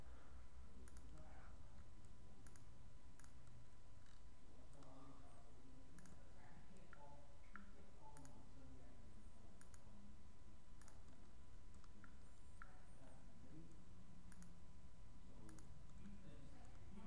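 A computer mouse clicks repeatedly while a selection is traced in GIMP image-editing software. The clicks are soft and scattered at irregular intervals over a low, steady background hum.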